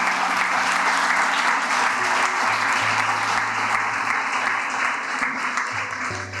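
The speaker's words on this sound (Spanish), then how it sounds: "Dele un aplauso al Señor" Sustained applause from a church congregation fills the space, loud and steady throughout, with a faint hum beneath and no talking over it.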